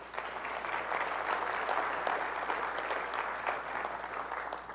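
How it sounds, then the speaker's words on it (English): A seminar audience applauds in a steady, even wash of many hands clapping that holds for nearly five seconds, heard at some distance in a room. "So last applause for the coding part"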